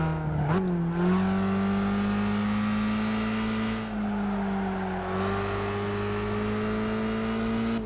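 Steady race car engine drone in Gran Turismo 5, a sustained loud tone with pitch shifts during gear changes and brief dips, held nearly constant with a soft tire-and-wind hiss underneath.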